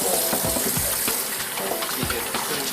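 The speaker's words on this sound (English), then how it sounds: "and wash my hands." Water running steadily from a kitchen tap while hands are washed, a close, continuous splashing gush with a few small knocks.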